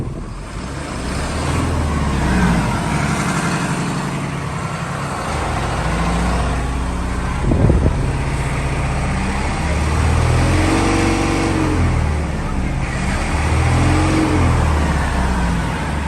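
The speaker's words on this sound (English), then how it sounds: "We'll go ahead and do a rev up on the engine so you can hear it." A 2015 Hino 338 box truck with a lift gate and 266,000 miles has its diesel engine revved several times. Each rise swells up from a steady idle and falls back, loud and close.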